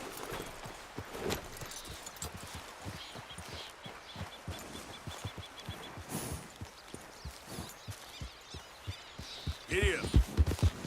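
A horse's hooves in Red Dead Redemption 2 beat in a steady, rhythmic clip-clop at moderate volume, continuing throughout with a brief horse vocalization near the end.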